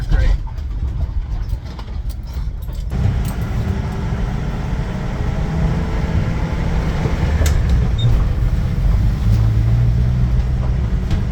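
A rebuilt Ford Bronco drives along in third gear, its engine droning and road rumble steady throughout, with a sharp rattling burst at the start before the vehicle noise settles under occasional talk.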